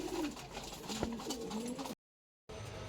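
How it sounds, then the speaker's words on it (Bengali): Pigeons coo in a rooftop loft in Serampore, their low, rolling calls repeating close by over a busy background, then a brief silence before the ambience resumes. "বাপ্পা কাকার বাড়িতে কি কি পায়রা আছে সেগুলো তোমাদেরকে শখ করাবো এক এক করে।"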